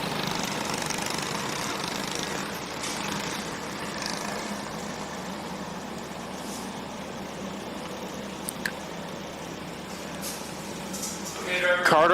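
Micro sprint race car engines drone around a speedway track at night, a steady buzzing roar from a field of karts, with a race announcer talking over it.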